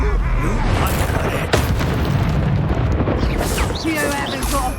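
Confringo fire spell blasts in Hogwarts Legacy combat, booming explosions over a dense, loud rumbling battle din, with a shouted voice line in the mix.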